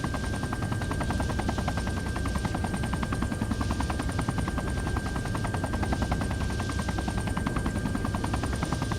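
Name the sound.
helicopter rotor noise, from a video game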